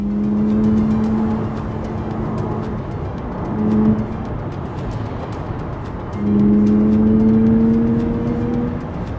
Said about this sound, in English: I want you to hear the way the virtual engine sounds like.